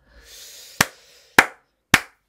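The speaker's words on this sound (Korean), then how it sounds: "제가 방송에서 처음으로 박수를 쳤습니다" Three sharp, loud hand claps ring out evenly spaced about half a second apart after a brief quiet murmur.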